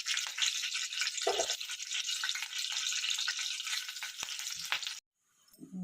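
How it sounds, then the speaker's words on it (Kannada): Cumin seeds, dried red chilies and curry leaves sizzle loudly and steadily in hot oil for about five seconds, a dense crackling hiss with a few clinks, then the frying cuts off abruptly into near silence before a faint rustle returns. "ಎಣ್ಣೆ ಕಾದ ತಕ್ಷಣ ಸ್ವಲ್ಪ ಜೀರಿಗೆ ಒಂದೆರಡು ಒಣಗಿರೋ ಮೆಣಸಿನಕಾಯಿ ಕರಿಬೇವು ಸೇರಿಸ್ಕೊತಾ ಇದ್ದೀನಿ"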